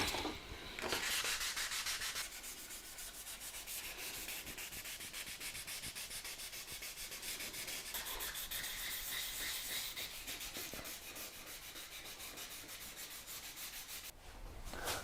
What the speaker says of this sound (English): wet sanding with 1200 grit